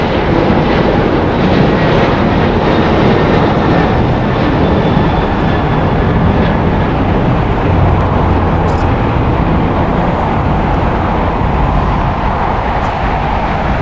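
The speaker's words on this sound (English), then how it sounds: "Southwest Airlines Flight 2606 going to Houston. It's a Boeing 737-800, 10 years old." A Southwest Airlines Boeing 737-800 jet departing Los Angeles International Airport, its steady broadband engine roar loud and continuous throughout with no voices.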